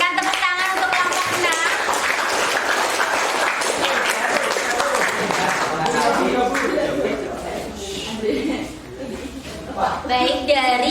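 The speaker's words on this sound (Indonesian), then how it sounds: "Berikan tepuk tangan untuk kelompok" A room of teachers clapping for a presenting group at a school session, dense steady applause close by, with voices and chatter mixed in before it thins out near the end.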